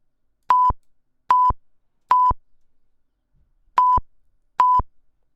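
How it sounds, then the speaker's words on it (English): Five identical short electronic censor beeps at a steady mid pitch sound in a mixing session, loud and clean against silence, with a longer gap before the last two. "I added some beep effects. Instead of the censor effect, I added this beep."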